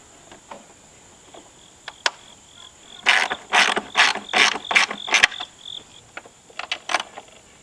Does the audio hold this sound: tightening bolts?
yes